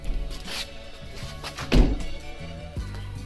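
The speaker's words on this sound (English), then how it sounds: "Trunk did pop." Trunk of a 2008 Pontiac G6 popping open, a single dull thunk midway through, close by, over faint background noise.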